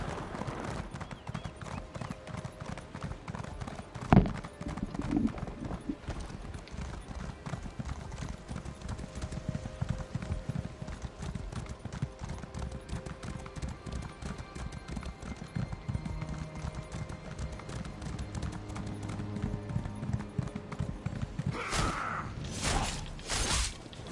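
Horse hooves clip-clop in a steady galloping rhythm while riding in Elder Scrolls Online, a continuous mid-level patter lasting over twenty seconds, with a brief whinny-like burst early on and louder game effects near the end.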